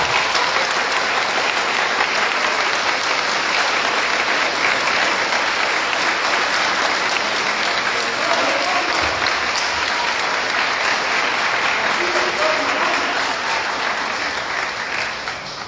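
Sustained, dense applause from an outdoor park audience at a commemorative speech fills the whole stretch at a steady, strong level, with no talk over it, fading slightly only at the very end.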